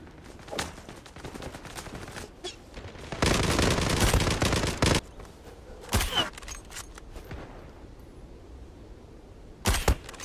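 Sharp sniper rifle shots ring out in the Zula video game, scattered single cracks with one longer burst of loud gunfire in the middle, over a quiet game background.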